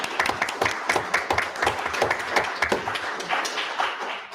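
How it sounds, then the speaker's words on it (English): An audience at a school board meeting claps for honored coaches, a brisk, uneven burst of many hands applauding at moderate distance for several seconds. "Can we just go ahead and clap"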